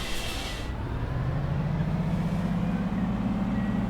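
Setra coach in the game Bus Simulator 21, a low steady diesel engine drone that swells as revs rise, with a brief high hiss at the start, close and continuous with no talk.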